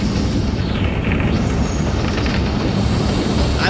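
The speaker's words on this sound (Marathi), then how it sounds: "आता आमची टॉय ट्रेन चाललेली आहे" A toy train on a hill railway at Matheran rumbles steadily along its rails, a continuous rolling clatter close by with no one speaking.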